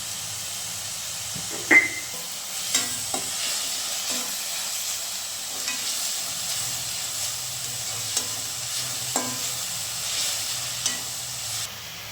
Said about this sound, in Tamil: ஆனியன் வதங்கிறதுக்கு கொஞ்சம் உப்பு போட்டால் சீக்கிரம் வதங்கும்.